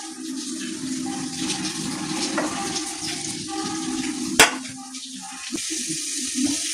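Crushed ginger and garlic hit hot oil in a pan while cooking a Kerala crab curry, giving a steady, close, watery sizzle with one sharp click partway through.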